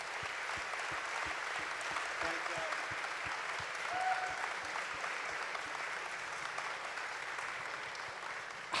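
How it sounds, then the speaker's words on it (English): Sustained audience applause at a Star Wars Celebration convention panel: steady, even clapping from a large crowd, with a faint voice briefly rising above it. "I just want to give you guys a round of applause for this"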